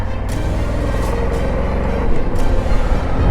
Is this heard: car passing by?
yes